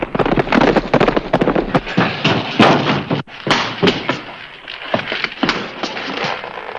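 Gunfire in an old western shootout rings out as a dense volley of loud, sharp cracks and bangs, fired rapidly and overlapping for several seconds, close and harsh, with no talking.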